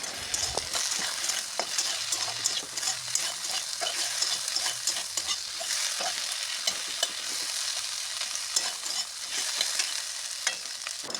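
Cut potatoes and ridge gourd fry in hot oil, a dense steady sizzle broken by repeated scraping and clattering as a spoon stirs the vegetables around the pan, close and loud throughout.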